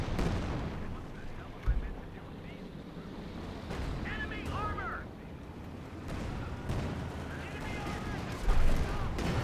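Artillery bombardment in the Company of Heroes 2 strategy game: scattered thumps and blasts over a steady rumbling battle bed, with louder impacts near the start and end and radio-like chatter mixed in.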